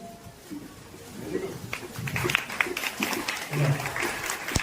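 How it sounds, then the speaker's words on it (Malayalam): Brief, scattered hand clapping, faint and fairly close, rises over a few seconds beneath a speaking voice. "അറിയാതെ കയ്യടി വന്നേണ്ട"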